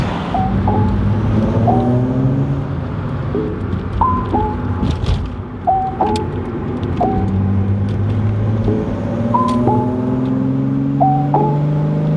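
Volkswagen Corrado VR6 driving, engine note rising and falling through repeated gear changes, steady and fairly close from inside the car.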